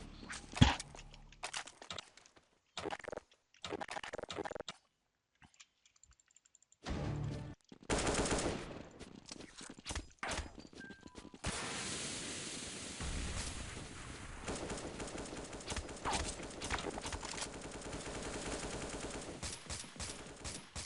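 Gunfire in the video game Counter-Strike 1.6 with a CS:GO mod: short bursts of automatic fire broken by silent gaps, then a long stretch of continuous, dense shooting noise.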